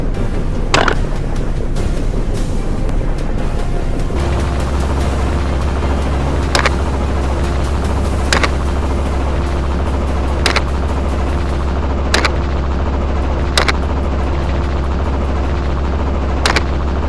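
A low-flying helicopter during a wild boar hunt on a hilltop, a steady loud rotor and engine drone throughout, with several sharp brief cracks standing out at intervals.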